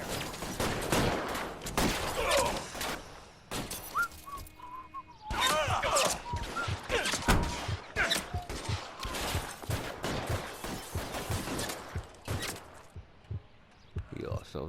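Dense, repeated gunfire from the L.A. Noire video game cracks in loud volleys and scattered single shots throughout, mixed with shouted voices and brief pauses between bursts.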